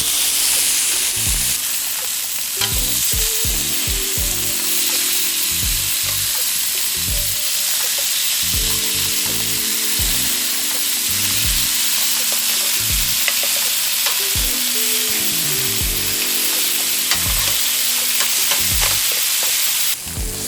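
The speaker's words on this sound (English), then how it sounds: "Searing these ribs builds flavor before slowly braising them to fall off the bone perfection." Beef ribs sear loudly in a hot pan with ginger and garlic, a constant close sizzle and crackle broken by repeated stirring and scraping clatters throughout, no voices.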